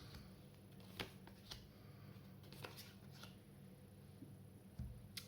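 Tarot cards being split and shuffled by hand, a quiet series of soft riffling flutters and light taps spread irregularly over a few seconds, close up with no talking.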